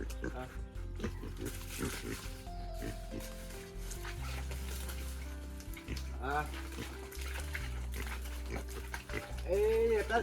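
Pigs grunt and oink repeatedly while being washed with steadily running water on an Assam pig farm, with a person talking over the splashing throughout.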